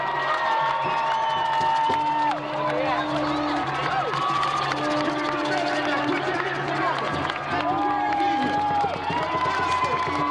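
A large crowd at a 1997 California civil rights march cheers and shouts continuously, with whoops and scattered clapping over a steady roar, and voices call out within the noise throughout.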